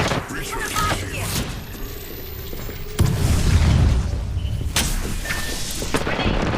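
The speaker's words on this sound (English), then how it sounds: "Grenade." A grenade bursts in the Apex Legends battle royale game in Kings Canyon, a heavy boom landing midway amid scattered gunfire and ongoing combat noise, with a voice speaking over the action.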